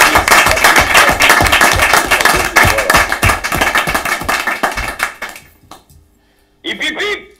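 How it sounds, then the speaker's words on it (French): A crowd applauds a man named François Arbon, loud sustained clapping for about five seconds that tapers off into near silence before a brief voice cuts in. "Nous applaudissons François Arbon."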